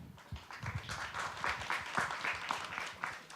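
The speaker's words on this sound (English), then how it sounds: "I hope we can start our discussions for today with a round of applause for our panelists" Audience applauding panelists at a literary café discussion, a short burst of moderate clapping from a modest crowd, fairly even and slightly distant.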